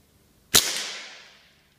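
A single sharp crack from a Crosman 2240 air pistol fired on a 12g CO2 cartridge, close and loud, with a quick decaying hiss and ring after the report.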